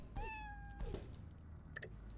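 A cat meows twice in the Fallout Shelter video game, two clear, fairly loud calls close together over a low background hum, followed by faint short game chimes.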